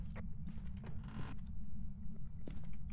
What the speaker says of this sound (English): I hear a lot of creak, though.